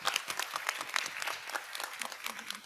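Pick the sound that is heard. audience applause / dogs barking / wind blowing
audience applause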